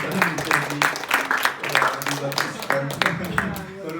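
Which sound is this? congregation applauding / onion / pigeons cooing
congregation applauding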